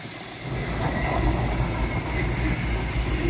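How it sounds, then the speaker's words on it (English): A train passes close by just before entering Parsons Tunnel, making a steady, loud rumble and broad rushing noise throughout, with no talk. "It's our first proper train of the day."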